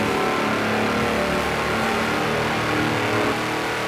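A tractor in Forza Horizon 4 roars at full speed around 87 mph, giving a steady, loud, continuous engine drone with no letup and no talk.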